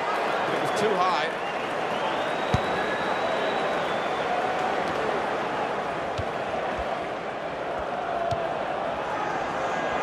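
Stadium crowd noise from the FIFA 16 football video game swells in a broad, continuous roar with scattered clapping, rising briefly near the start before settling into a steady background wash.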